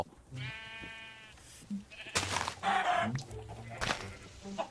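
Several Minecraft chickens clucking in a short cluster, mixed with a burst of other game sounds and a bleating sheep nearby, with no talking.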